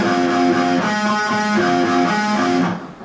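Guitar strumming two chord shapes from a song, a barre shape up the neck, ringing full and loud alone for about three seconds before fading.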